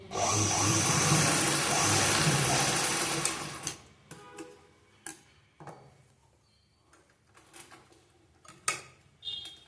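A sewing machine stitches an unlined blouse with a loud, steady whirring run for about four seconds, then stops, leaving scattered soft clicks and fabric handling.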